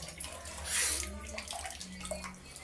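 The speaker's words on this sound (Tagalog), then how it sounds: "So guys, grabe lakas ng ulan dito." A steady wash of heavy falling water, like a downpour, hisses continuously at low volume with faint background noise.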